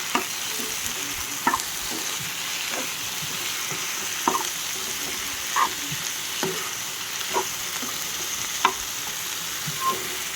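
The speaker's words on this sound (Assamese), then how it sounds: "এয়া ঢালি দিলোঁ মাংসখিনি। লৰাই দিলোঁ ভালকৈ।" Duck meat tipped into browned frying onions hisses in a steady loud sizzle, while a spoon scrapes and knocks through the pan in irregular strokes for about ten seconds, with no voices.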